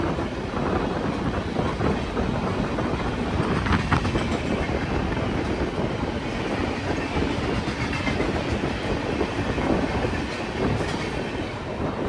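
The 12312 Netaji Express, running late past Dankuni Junction toward Howrah, thunders by close and loud with continuous wheel roar and clickety-clack over the rails, steady throughout with no voices.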